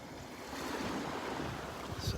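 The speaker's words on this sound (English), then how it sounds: "This is right where the waves are sifting the shells for me." Ocean waves wash over shells on the beach at Delnor-Wiggins, a steady close hiss and rush of surf with faint clattering, mixed with some wind noise on the microphone.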